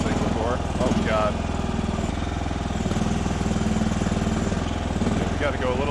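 A Chinese mini skid steer's small engine runs steadily as it drives and scrapes with its bucket, a close, throbbing mechanical drone with brief whines from the hydraulics, and someone talks over it.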